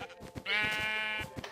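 A single sheep bleat in the Minecraft video game, a short, clear, wavering call lasting under a second, with quiet game sounds around it.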